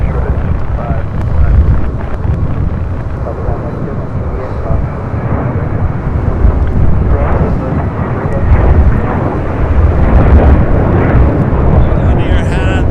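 A Boeing 747 jet airliner at LAX roars loudly and steadily, a broad rumbling jet noise with wind buffeting that swells in waves, while people talk over it.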